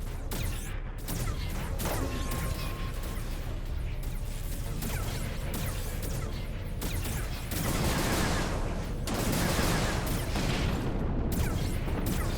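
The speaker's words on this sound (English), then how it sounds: "Love those strafing runs." Rapid gunfire from strafing runs in the Mass Effect video game, dense bursts and crashes rolling continuously and loudly with no talking.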